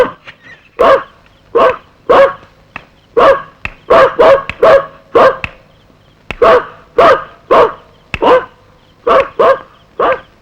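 A dog barks repeatedly and loudly at close range, in irregular bursts of single and double barks with short pauses between them, with no other sound around it.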